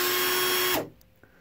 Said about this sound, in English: this is an electric drill I have set up in the vise